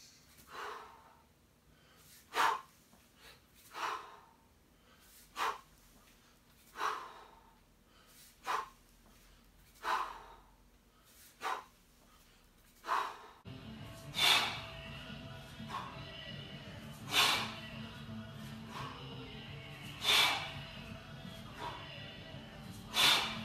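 Forceful rhythmic breathing during kettlebell snatch repetitions, two breathing cycles per rep, comes as sharp, close exhalations every second or two. The puffs repeat steadily, and a louder background hum joins halfway through.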